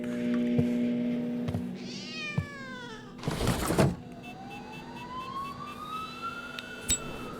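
A cat in the video game The Operator meows in a couple of short rising calls near the start, followed by a loud noisy burst and a long sliding tone over quiet ambient hum.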